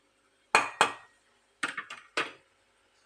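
Dried fish dropped into a cooking pot with chili powder and cooked tomato, giving a few sharp clattering knocks in quick pairs, then a short cluster of clinks, close and fairly loud against a quiet kitchen.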